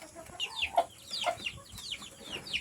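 Chickens and young chicks clucking and chirping while being fed, a run of bright, repeated peeps and clucks close by with no talk over them.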